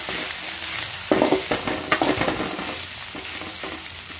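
Ginger garlic paste with turmeric fries in hot oil, a spatula scraping and stirring in a quick run of close knocks over a continuous sizzle.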